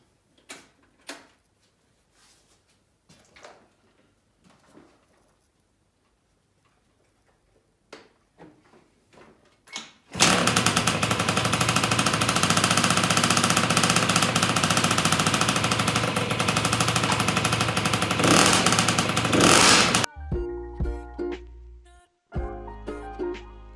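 A Spirit moped with a 70cc stage 6 kit and big-end rod is kicked over with clicks and sputters, then fires into a loud, harsh, rapid two-stroke buzz for about ten seconds before dropping to choppy revving.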